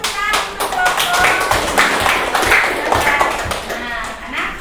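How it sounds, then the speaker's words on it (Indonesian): Classroom applause for a student group after a discussion presentation, several pupils clapping in a loose, uneven patter close by while voices chatter and call out over it. "kita kasih tepuk tangan untuk kelompok"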